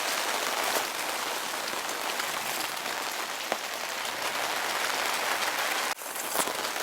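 Heavy rain pours steadily outdoors on Chobham Common, a dense, loud hiss of drops on surfaces, with a brief knock near the end.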